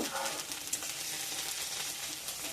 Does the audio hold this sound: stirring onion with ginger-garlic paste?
yes